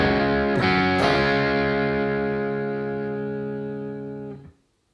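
An electric guitar with heavy distortion plays the intro bars of a song, with a couple of quick picked attacks and then a long, ringing chord that slowly fades and is cut off.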